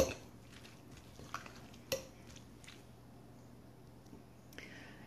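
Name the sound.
mixing tuna salad with mayonnaise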